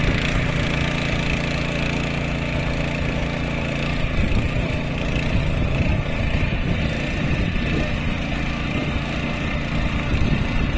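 A tractor engine churns through a flooded paddy field being puddled for rice planting in Kumbhavade, Rajapur, giving a loud, steady, rumbling drone throughout with no voices.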